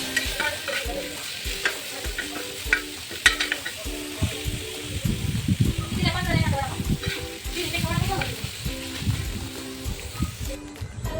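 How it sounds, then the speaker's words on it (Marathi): Dill greens sizzle in a hot pan over full flame while a utensil scrapes and stirs them in repeated strokes; loud and close. "शापूची भाजी टाकली आणि सगळं असं मस्त परतून घ्यायचं फुल गॅसवरती"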